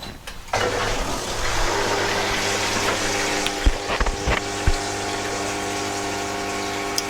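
Lay-Z-Spa Palm Springs Airjet inflatable hot tub pump starting up with the filter on, a steady loud humming drone with rushing water and a few light knocks, close by and without speech.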